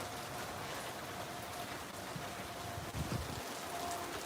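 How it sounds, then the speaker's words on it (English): Steady rain falls outside an open garage door, a dense even hiss of drops that holds for the whole stretch, with a few low thumps near the end and no talk. "I love it when it rains."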